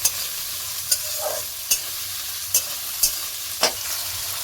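Lightly boiled, drained green peas fry in a pan for a peas pulao, a soft continuous sizzle broken by regular sharp spatula taps and scrapes about every second, close up.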